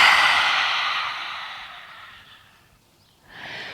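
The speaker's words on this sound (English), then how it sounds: "breathe out through your mouth with your mouth wide open and stick your tongue out" A long, breathy open-mouthed exhale during a prenatal yoga breathing exercise, fading over a few seconds, followed by a short quieter breath, close and alone without talk.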